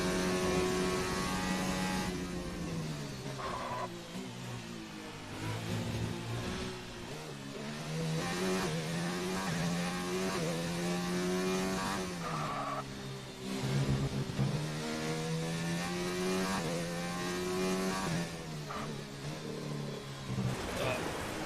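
A Formula 1 race car engine in the video game F1 2019 whines and revs through repeated gear changes, with the pitch climbing and dropping steadily for about twenty seconds, loud and continuous.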